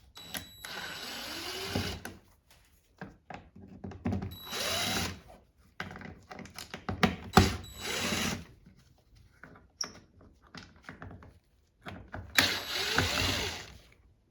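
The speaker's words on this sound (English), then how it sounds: "Start by removing these 4 Phillips head screws." Short bursts of a power driver whirring as Phillips head screws are backed out of the cargo light on a 2010 Toyota Tundra, close by, separated by pauses and small clicks and rattles.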